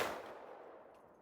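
A Ruger SFAR rifle chambered in 6.5 Creedmoor is fired once outdoors: a loud blast already underway at the start, then a long rolling echo that fades away over the next second.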